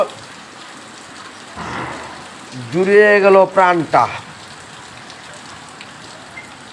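Steady night rain falls in the background, a soft continuous patter under a brief spoken phrase and some nearby voice sounds.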